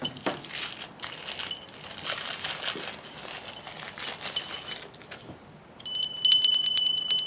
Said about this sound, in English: And we got a little bell.